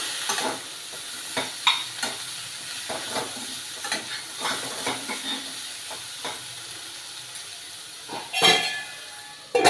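Brinjal and cluster beans curry cooks in a pan over low heat, giving a soft continuous sizzle and steam hiss broken by irregular spoon scrapes and light clinks against the pan, louder near the end, with no one speaking.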